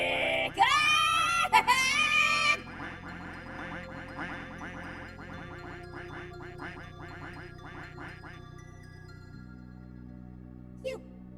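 A burst of loud, chattering duck quacks opens the scene in Urban Myth Dissolution Center. It then gives way to a quieter run of rapid, clipped chirps and clicks over a low tonal drone, which fades near the end.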